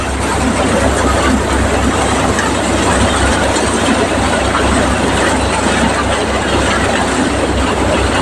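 Mustard seed crushing machine running in a field while seed is fed into its hopper, a loud, steady mechanical drone with a low throbbing hum that holds without a break for the whole stretch.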